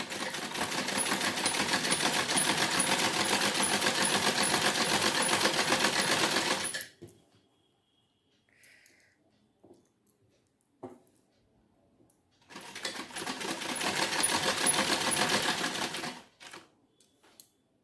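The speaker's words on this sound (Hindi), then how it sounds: "अब हम सिलाई कर देते हैं।" A sewing machine stitches a kurti neckline in two bursts of rapid, steady needle clatter, the first about seven seconds and the second about four, separated by a quiet pause with small handling clicks.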